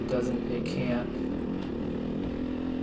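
A 2020 Beta 500 RR-S dirt bike engine drones steadily while the bike blasts over rocks, a continuous close motor hum under someone talking throughout.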